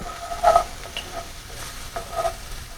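Thick dark roux cooking in a pan for a Cajun dish, stirred with soft scraping strokes over a steady low sizzle, close and moderately loud.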